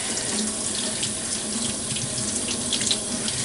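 Tap water runs steadily into a sink to rinse a makeup brush after washing it with mild dish soap. The splashing flow is close and continuous, with no voices.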